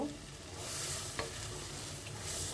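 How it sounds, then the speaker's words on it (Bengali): Mixed vegetables with lentils gently stirred in a pan, giving a steady, soft frying hiss and one light scrape of the utensil. "এখন হালকাভাবে নাড়াচাড়া করব"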